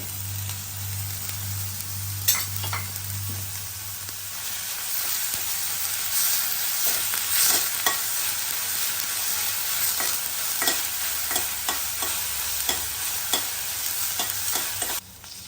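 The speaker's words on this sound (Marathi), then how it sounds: "तेल तापल्यावर जो फोडणीसाठी कांदा ठेवलेला तो घालायचा" Steady sizzling of onion frying in hot oil, with a brief low hum at the start and occasional clicks of stirring.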